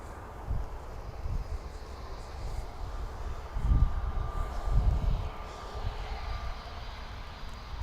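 A Jet2 jet airliner flies past near Manchester Airport, a low rumbling engine roar swelling in a few broad surges over a steady distant background.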